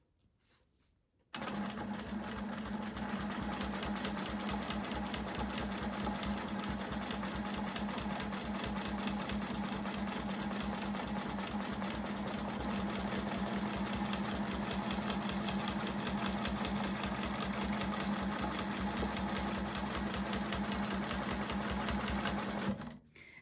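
A sewing machine runs steadily for about twenty seconds while free-motion quilting with a Westalee ruler, a continuous rapid needle chatter with a low motor hum, close and loud, starting abruptly after a brief quiet moment and cutting off at the end.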